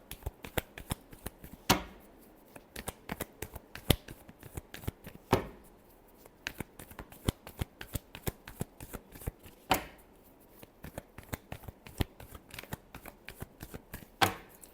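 A deck of tarot cards being shuffled by hand over and over, with crisp riffling snaps in quick irregular bursts and a few louder slaps, close and alone with no voices.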